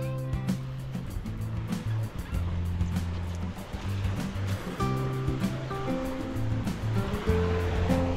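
Waves wash steadily onto a beach shore beside a river mouth, a continuous surf hiss with broken rushing surges, while birds call and cluck close by throughout.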